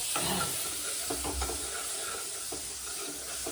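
Masala roasting in a pan at home: a soft continuous sizzle with occasional stirring scrapes and knocks, close and fairly quiet.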